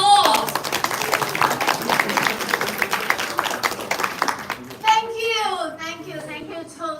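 Audience applause at a Toastmasters meeting fills the room steadily for nearly five seconds, a dense wash of clapping hands, then fades as a speaker's voice takes over near the end.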